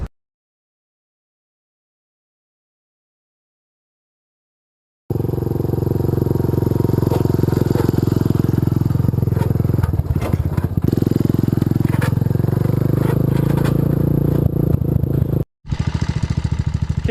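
A 1983 Honda ATC185s three-wheeler with a big bore kit and Amazon exhaust starts up after silence, then runs with a loud, close, steady engine drone and some rising revs, briefly cut off near the end.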